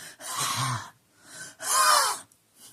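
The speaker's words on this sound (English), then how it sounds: "Breathing in through your mouth, that's why you tend to look older." A person draws two long, raspy breaths in through the mouth, close and fairly loud, separated by a short pause, with no talking.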